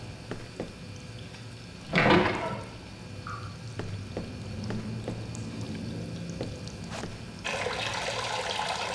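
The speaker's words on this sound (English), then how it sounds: "And flush the toilet." A toilet flushing in Fahrenheit: Indigo Prophecy, a sudden loud rushing surge followed by softer trickling and refilling water, close by, with a quiet hum beneath.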